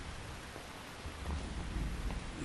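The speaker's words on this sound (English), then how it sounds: "You can entertain me until the rain stops." Rain and rolling thunder from the video game Metal Gear Solid 3, a soft steady patter with deep low rumbles swelling toward the end, moderately quiet and with no voices.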